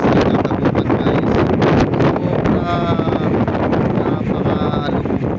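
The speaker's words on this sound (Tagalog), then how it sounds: "Oh, sobrang hangin, lakas ng hangin." Strong wind during Typhoon Carina flooding in Manila roars steadily and loudly into the microphone, with dense, continuous buffeting rumble and rustle throughout.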